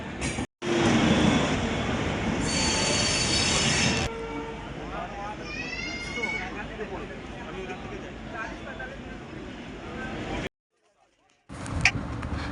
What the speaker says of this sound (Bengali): এসে গেছে আমাদের ট্রেন এখন আমরা ট্রেনে উঠবো